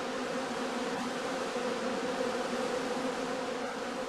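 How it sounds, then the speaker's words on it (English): Honey bees fly around heather skeps at an apiary on a sunny autumn day, giving a steady, close buzzing drone that holds for the whole stretch with no voices. "bees can still be seen flying before they cluster together for the cold winter months"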